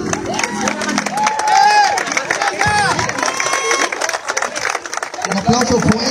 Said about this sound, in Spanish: Vamos a dar un fuerte aplauso a Fernanda Gandiche Sandoval.